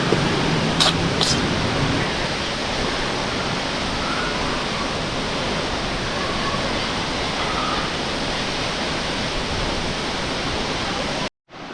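Steady, loud roar of rushing water from Didupe waterfall, a broad continuous wash of falling water that holds unbroken for the whole stretch before cutting out abruptly near the end.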